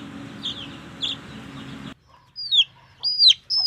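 Chickens clucking in a rural yard, with a few sharp, close clucks and short calls rising over a low background hum that cuts out midway, leaving the clucks alone.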